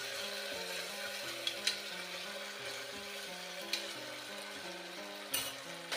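Mutton curry ingredients with ginger-garlic paste being stirred in a hot pan, a steady frying sizzle with soft scraping strokes and a few sharp clinks of the spoon against the pan, moderately faint and continuous.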